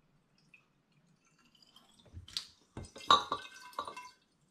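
Homemade apple and ginger mead is poured into glass bottles, giving soft trickling and gurgling with a few light clinks of glass, close and quiet against near silence.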